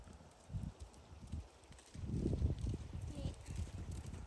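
Horse cantering in a riding lesson, soft rhythmic thudding hoofbeats in a steady three-beat pattern, growing louder midway, with an instructor speaking over it.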